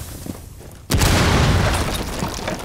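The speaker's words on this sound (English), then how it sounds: "Breach charge is hot." A breach charge detonates in Rainbow Six Siege with a sudden, loud, close boom that cuts through quiet ambience and decays into a long rumbling roar of debris.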